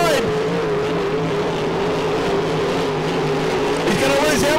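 Grand Prix hydroplane racing powerboats roar past on the water, a loud sustained engine drone with a steady pitch and a few rising swells near the end.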